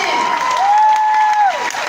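A crowd at an agora event applauds in a loud, dense wash of sound, with a long sustained tonal cry or whistle riding over the clapping.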